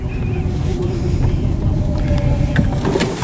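Tesla electric car driving, a steady broadband rumble of road and wind noise running throughout with no engine note, with faint voices now and then inside the cabin.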